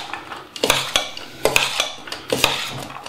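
A utensil scrapes and clinks against a bowl in a steady rhythm of repeated strokes while smoked fish is mixed into a salad of onions, apples and carrots with sugar and vinegar, close and moderately loud.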